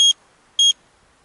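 A radiation meter alarm set to trigger at 0.30 microsievert per hour gives two short, bright electronic beeps about half a second apart, loud and clean over near silence.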